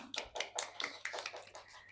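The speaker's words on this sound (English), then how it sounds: "Claps for her." A classroom quiz audience claps for a student who answered correctly: quick, light, fairly faint claps, about eight in two seconds, in an uneven patter.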